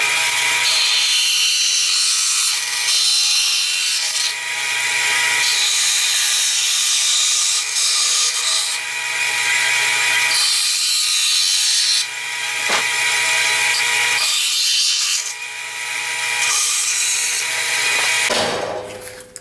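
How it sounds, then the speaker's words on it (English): A bandsaw cuts a knife blank pattern in a long, steady run, its loud continuous whine and hiss holding with brief dips as the blade moves through the stock, alone without talk. "now I'm going to jump here on the bandsaw and start cutting out the basic pattern I want"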